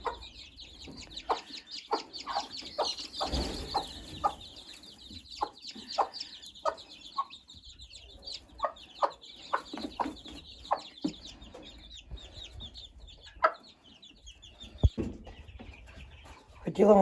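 Turkey poults on a farm give soft, steady high chirping and peeping, with clucking-like calls and scattered clicks and knocks. A person talks briefly.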